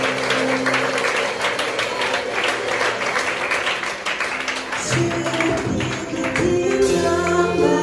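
A church congregation at a women's gathering applauds to acclaim the Lord, sustained dense clapping from many hands, loud and close, with music and faint voices rising underneath toward the end.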